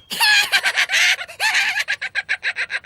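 A voice imitates an angry hen, with rapid, agitated clucks and squawks: a few long cries first, then a quick run of sharp, evenly spaced clucks.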